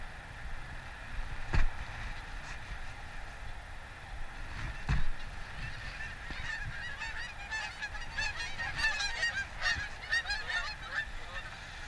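Geese honking near a lake, several repeated calls overlapping and growing busier toward the end, moderately distant over faint outdoor background noise, with a couple of sharp knocks and no talking.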